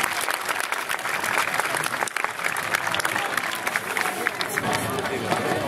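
Sustained applause from an audience at a falconry show, steady clapping filling the whole stretch with a dense, continuous patter at moderate loudness.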